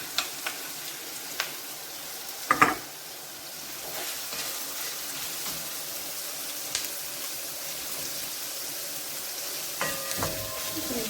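Carrots added to onions in a frying pan sizzle with a steady hiss, broken by occasional clatters and scraping as they are stirred, fairly quiet and close.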